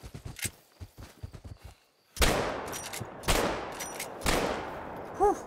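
Slug shotgun rounds boom in theHunter: Call of the Wild, three heavy spaced shots with long ringing tails following a run of quick thudding footsteps, loud and close.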